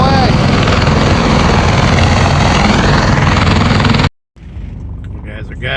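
A Marine Corps CH-53 helicopter idling nearby at an airfield, a loud, dense, steady engine and rotor roar that cuts out abruptly near the end, leaving quieter background sound and a voice.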